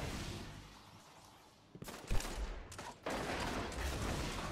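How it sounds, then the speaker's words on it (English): Video game gunfire crackles in quick bursts from a distance, several sharp volleys clustered in the middle and a dense rattle toward the end, fairly quiet overall. "Two of them shooting up there"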